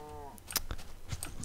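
A cow in a video game gives a short, low, droning moo, followed by a voice talking.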